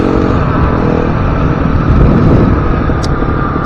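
A Husqvarna 350 dual sport motorcycle engine runs in a steady, loud drone, held without a clear rise or fall and heavy with wind rush.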